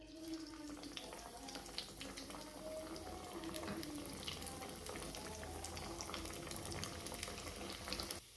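Methi vadi frying in hot oil in a kadhai, with a dense, steady bubbling crackle that holds at an even level throughout, close by and with no talking.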